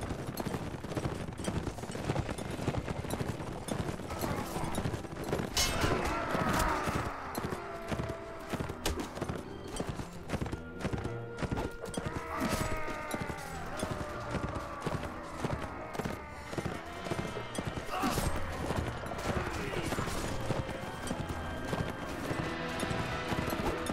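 Horse hooves clip-clop steadily through a Mount and Blade Warband battle on rough ground, a dense run of hoofbeats with clashing and shot-like cracks mixed in, loud and continuous with no talking.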